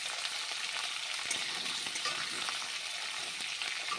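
Diced squash and carrot with spinach frying and being stirred in a pan, an even, dense sizzle with faint scraping throughout, no talk.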